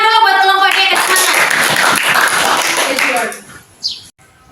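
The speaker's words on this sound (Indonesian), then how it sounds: "Tepuk tangan dulu buat kelompok D, ke sana." A classroom of students applauds group D, the crowd clapping steadily and fairly loud for a few seconds before it fades out. Chirpy noise and voices run through the clapping.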